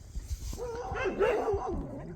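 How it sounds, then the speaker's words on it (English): Dogs in a home workshop let out whiny, yelping barks with a rising and falling pitch, fairly close, over low room noise. "do not mind my dogs"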